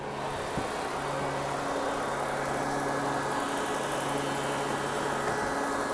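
A 2019 Chrysler Pacifica Hybrid's 3.6-litre V6 idles with a steady, even hum and low tonal drone, a faint thump near the start, heard continuously without talk.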